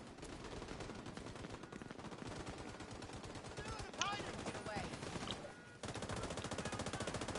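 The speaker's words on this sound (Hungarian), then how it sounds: "Szerintem ott lövöldöznek egyébként." Rapid bursts of gunfire from a light machine gun in the video game The Division rattle almost continuously, with brief pauses and sharper single shots mixed in.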